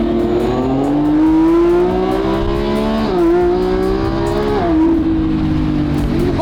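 A Lamborghini Revuelto's engine climbs in pitch, drops sharply on two quick downshifts and revs again, loud and close with no voices.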